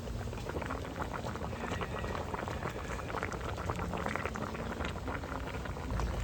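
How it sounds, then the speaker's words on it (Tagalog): A pot of papaya stew bubbles uncovered at a steady rolling boil, with a continuous close-up gurgle and hiss and no voices. "Kaya ang kulo niya ganyan lang."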